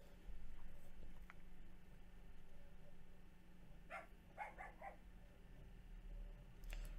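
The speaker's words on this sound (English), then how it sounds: "Dog barking." A dog barks in a short cluster of yaps partway through, heard at a distance over a steady low outdoor hum in a GeoGuessr game scene, with no one talking.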